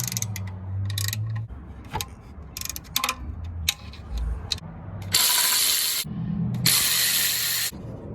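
Ratchet clicking as bolts are loosened to remove the manifold plate during cylinder head removal on an engine, bursts of rapid ratcheting alternating with brief pauses and clanks, close and fairly loud.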